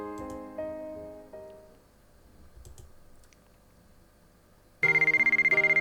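A cell phone ringtone in the video game White Album 2 suddenly starts near the end, a loud repeating electronic trill after soft game music and quiet clicks.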